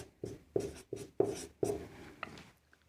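Chalk or pen writing a paragraph during a geography lecture, a run of quick scratchy strokes in a rhythmic series, close and fairly quiet, then trailing off.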